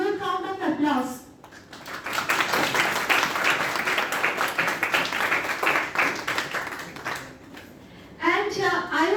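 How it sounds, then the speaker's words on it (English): An audience claps at the opening of an IEEE student branch inauguration hosted by engineering departments: steady, dense applause fills the room for several seconds, with a voice speaking briefly before it begins and again as it ends. "let's start the program with a huge round of applause"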